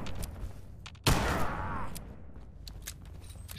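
A burst of gunfire in Fallout 4, one loud close shot cracking out and trailing into a rattling, fading echo over a low background hum.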